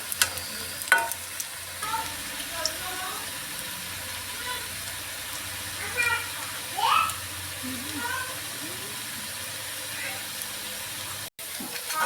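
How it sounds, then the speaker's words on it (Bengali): Drumstick flower pakoras frying in hot oil, a steady low sizzle with occasional crackles running throughout, with a few faint clinks near the end. "বাকিগুলো ভেজে নিচ্ছি। বাকিগুলো লাল লাল হয়ে ভাজা হয়ে যাচ্ছে।"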